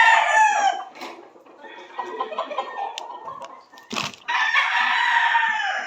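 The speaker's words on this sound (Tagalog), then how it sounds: "Busy busy sa pag-record ng mga manok" A rooster crows loudly nearby, then hens cluck and chatter, with a sharp knock midway before another long crowing call.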